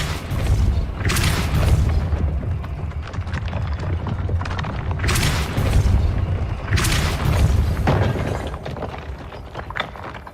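The Depulso force spell cast in Hogwarts Legacy: heavy booming blasts that repeat about three times over a steady low rumble, with crackling bursts at each impact and no talking.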